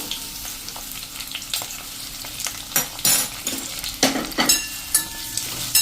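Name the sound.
onion and capsicum sautéing in hot oil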